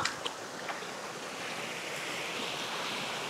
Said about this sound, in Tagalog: Ito may mini falls pa dito.